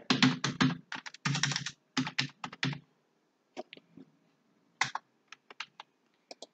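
Typing on a computer keyboard while entering a bank IFSC code into an online form: dense, rapid bursts of keystrokes close by, thinning to scattered single clicks.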